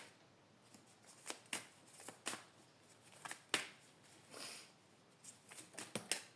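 Tarot cards shuffled and handled by hand: soft, quiet riffles and crisp flicks come in irregular bursts against a hushed room.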